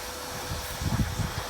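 A vacuum cleaner pulls broken glass out of a cheap hail-damaged salvage auction car, making a steady, close airy hiss with a few low thumps and rattles near the end.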